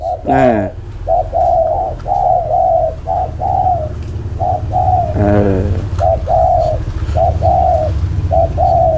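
A spotted dove coos over and over in soft, low, repeated phrases, close and steady, with faint chirps from other birds in the background.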